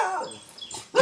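At a Thai temple, a dog gives a short yip or whimper, then a sharper bark bursts out at the very end, close and fairly loud.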